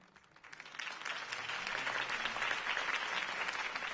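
Crowd applause after a campaign speech, swelling from a few claps into sustained, steady clapping from a large audience, close and full, with no voices over it.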